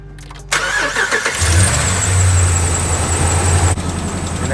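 A 2010 Dodge Ram engine cranks briefly and catches, then settles into a steady, loud idle heard close by, with no talking over it.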